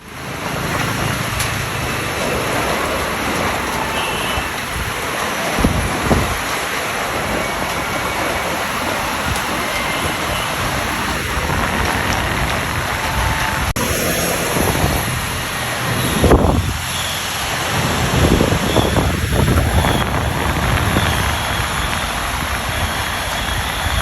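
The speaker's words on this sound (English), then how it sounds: "I decided to film some clips of the wind outside so I can show her" Steady, roaring wind from Typhoon Odette buffets the area outside throughout, with occasional heavier gusts and rattling bursts rising above the constant broadband rush.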